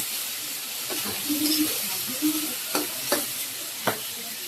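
Pangas fish heads fry in a pan with a constant bright sizzling hiss. Intermittent scraping knocks from a spatula stir the pan, and a faint background voice can be heard.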